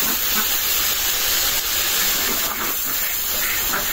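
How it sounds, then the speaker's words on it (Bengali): Potatoes and eggplant fry in hot spiced oil for a Bengali river-fish chorchori, a loud, close, unbroken sizzling hiss that holds steady throughout. "মশলাটা কষানো হয়ে গেছে, একদম তেল উঠে গেছে। এখন দিয়ে দিব আলু বেগুন।"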